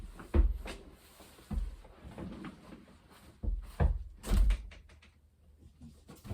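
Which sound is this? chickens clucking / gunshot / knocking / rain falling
knocking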